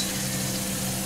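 Halibut frying in organic coconut oil, a dense, steady sizzle close up, continuous and loud with no pauses.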